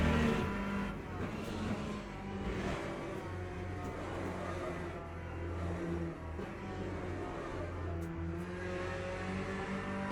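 Race car engine in a racing video game drones steadily with shifting pitch and occasional revving, a car struggling for grip on track, continuous and fairly close throughout.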